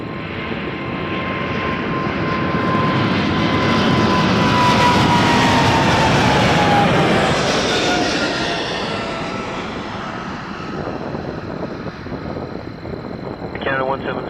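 An Air Canada Boeing 777-200LR jet bound for Zurich passes low over Toronto Pearson Airport, its roaring engines swelling to a loud peak mid-pass and then slowly fading, with faint voices talking in the background.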